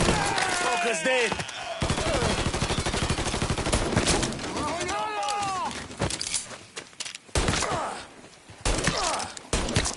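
Rapid bursts of gunfire from the video game Mafia 3, dense volleys and single shots recurring across the span, with excited voices talking over the shooting.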